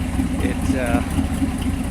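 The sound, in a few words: GT-R car engine idling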